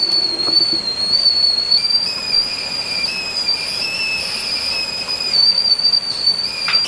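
A pressure cooker gives a long, steady, shrill whistle, loud and continuous, over a low background hiss.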